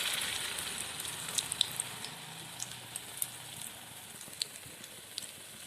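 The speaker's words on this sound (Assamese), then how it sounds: "ইয়াত লৈ লোৱা কচুৰিখিনি লাহেকৈ ইয়াত তেলত দি দিম।" Kachori fries in hot oil with a soft, steady sizzle and scattered crisp pops and crackles, heard close and fairly quiet, with no talk.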